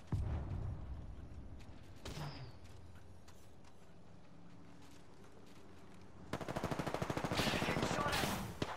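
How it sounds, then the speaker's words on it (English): Gunfire in Apex Legends: an opening burst of shots, a lull of scattered mechanical clicks, then a sustained rapid automatic volley near the end, loud and close. "Getting shot at."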